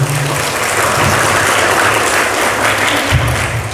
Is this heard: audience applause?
yes